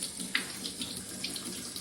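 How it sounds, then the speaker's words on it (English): Water dripping and trickling from a leaking pipe connector in a workshop, a close, steady splashy flow with small drip accents, no voices. "This is the water leakage."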